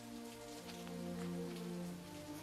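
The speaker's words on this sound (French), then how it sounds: "j'aimerais bien qu'il s'arrête de pleuvoir" Rain patters steadily on a surface, a soft continuous hiss that stays faint and even, with a low tonal hum running underneath and no voices.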